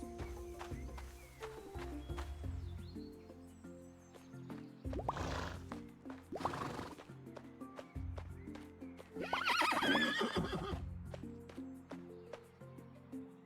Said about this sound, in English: Off to pet the horses